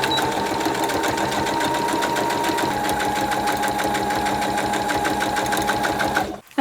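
A sewing machine runs continuously, stitching a zipper sandwiched between fabric and lining, a steady rapid mechanical chatter close up that stops abruptly at the end.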